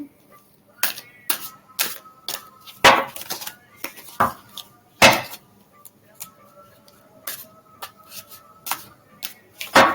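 Tarot cards are shuffled and drawn in a reading, giving sharp, irregular snaps and flicks, some louder slaps standing out, close and clear with no talking.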